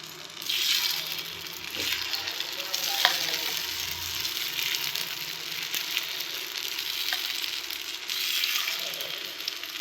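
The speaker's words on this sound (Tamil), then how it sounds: "நெய் விட்டாச்சு பணியாரக்கல் ஏறிடுச்சு இப்போ பணியாரம் ஊற்றலாம்" Sweet paniyaram batter sizzles in ghee in a hot paniyaram pan, a steady soft frying crackle with a few faint clinks, close and alone.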